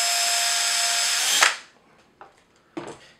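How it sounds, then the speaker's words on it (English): A power drill bores out a hole with a drill bit in a bath interferometer XYZ table assembly, a steady loud whine for over a second that stops abruptly, followed by two faint clicks of handling. "Just drill it out."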